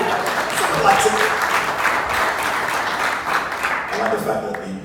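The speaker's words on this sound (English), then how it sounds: "the movie guy claps" Scattered clapping from a small audience in a room, several hands patting unevenly under murmuring voices and talk, one man's clapping among them.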